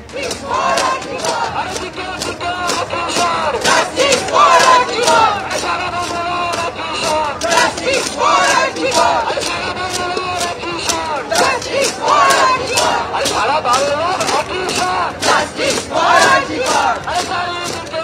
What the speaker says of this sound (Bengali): কোথাও দাঁড়িয়ে রয়েছেন এবং জাস্টিস ফর আরজি কর স্লোগান তুলছেন